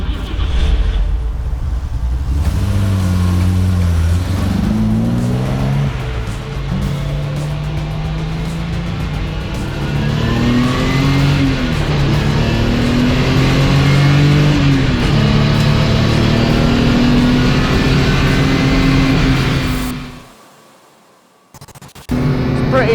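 A 1982 BMW 528 engine pulling on a damp track with wet tyres, a steady loud drone rising and falling through gear changes for about twenty seconds before cutting off abruptly.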